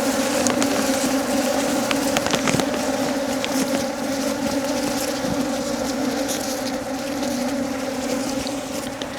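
Honeybees hum loudly and continuously around an open box hive during an inspection, a close, dense drone with scattered sharper buzzes as individual bees pass near.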